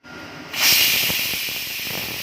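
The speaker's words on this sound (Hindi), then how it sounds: "तो पूरी 4 सीटी आ गई है और उसका प्रेशर भी अच्छे से रिलीज़ हो गया है।" A kitchen pressure cooker lets off its remaining steam after four whistles: a quiet start, then a loud, steady, close-up hiss that begins suddenly and holds with only a slight fade. No voices are heard.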